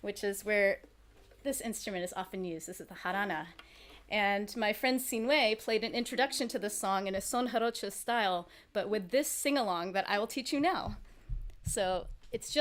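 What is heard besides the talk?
None of the usual background noises is heard.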